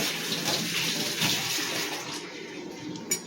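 Two peeled onions are rinsed in water for a brinjal curry, a close, steady rush of running and splashing water that fades slightly toward the end with a small clatter, and no speech.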